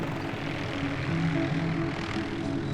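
A helicopter flies over a remote Maui rainforest, its steady engine and rotor drone filling the air at moderate volume without a break.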